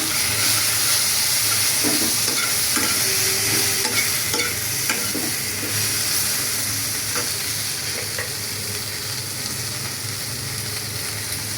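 Turmeric and chili powder are stir-fried into lightly fried ingredients in a pan, producing a loud, continuous close sizzle with a steady hiss and occasional soft utensil scrapes.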